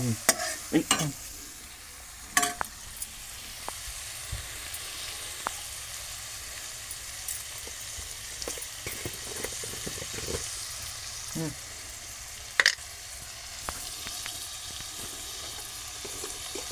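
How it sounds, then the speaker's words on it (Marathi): Onion and tomato sautéed with a little salt in a pan, giving a steady gentle sizzle with occasional spoon scrapes and taps against the metal, close and fairly quiet, with no one talking. "मीठ आणलं जरासं परतून घेतो आहे"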